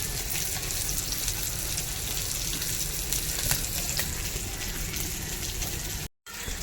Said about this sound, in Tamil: அடுப்பில் மீன் வேகுது